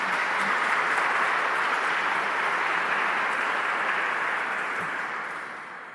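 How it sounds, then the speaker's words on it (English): A crowd gathered for a youth award ceremony in Carlow Cathedral gives a sustained round of applause, with even, reverberant clapping that fades out over the final second. "that deserves a round of applause before we start anything else"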